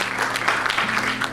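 A church congregation applauds during worship, a full, close wash of clapping that lasts the whole moment, with a low sustained musical hum underneath.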